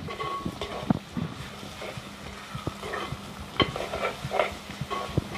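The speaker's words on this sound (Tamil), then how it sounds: "இனி குடலை போட்டு பிரட்டுவோம்" Goat intestines stir-fried with fried onions for a Jaffna-style curry, giving a soft sizzle under irregular scrapes and clacks of a spoon against the pan, close but fairly quiet.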